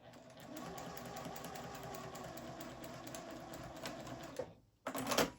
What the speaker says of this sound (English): because this is the lining side, I'm going to stop early and back stitch